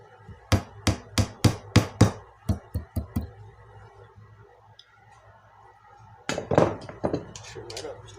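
A hammer taps a pin into a circuit-board crankbait bill: a quick run of sharp, close metallic knocks in steady rhythm, a few lighter taps, a pause, then a rougher burst of scraping and knocking.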